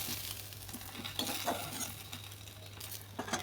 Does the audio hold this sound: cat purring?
no